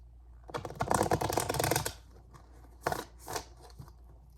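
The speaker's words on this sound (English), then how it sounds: "Shuffle 3 times." Tarot card decks are shuffled in a quiet room: a dense burst of riffling card clicks for about a second and a half, then two short, separate shuffling rustles, close and soft, with no voices.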